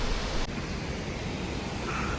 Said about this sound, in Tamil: ஃபால்ஸ் கிட்டே வந்துட்டோம்